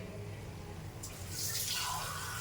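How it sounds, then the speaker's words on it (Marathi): Water poured into a pan of cooking egg curry masala with mashed onion and tomato, a hissing splash that swells in the second half over a steady low background. "थोडंसं पाणी टाकूया आणि शिजून घेऊया"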